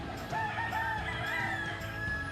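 A rooster crows loudly and repeatedly in a busy Philippine street setting, its drawn-out calls rising and falling across the moment with steady background noise underneath.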